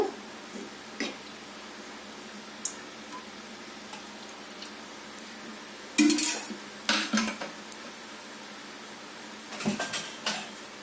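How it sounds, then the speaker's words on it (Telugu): A metal cooking pot is set down on a kitchen stove, giving sharp clanks and clatters of cookware scattered against a quiet room, louder knocks bunched in the middle and near the end. "స్టవ్ వెలిగించుకొని ఒక గిన్నె పెట్టుకోవాలండి"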